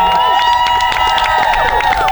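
Crowd of high school students at an outdoor walkout rally cheering and shouting with scattered clapping, a loud continuous mass of voices close by with no single speaker standing out.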